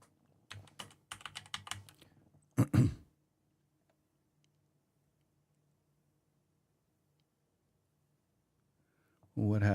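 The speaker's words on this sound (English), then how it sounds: "I can just type in sitting" Fast clicking keystrokes on a computer keyboard come up close, then go quiet, with a brief voice sound breaking in between the bursts.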